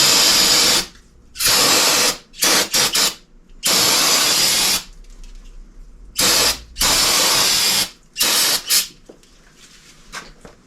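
Parts cleaner is sprayed onto a Cummins engine in a series of loud close hissing bursts, each lasting up to about a second, separated by short quiet gaps.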